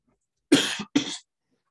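Two quick harsh coughs in a row, close and distinct, with silence before and after.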